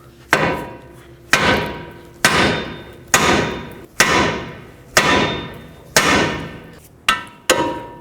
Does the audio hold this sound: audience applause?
no